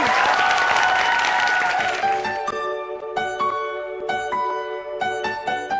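Studio audience applause on a morning talk show, loud clapping for the first two seconds that fades out as a musical sting with repeated tonal hits takes over.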